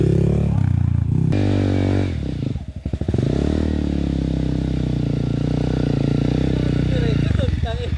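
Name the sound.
motorcycle climbing uphill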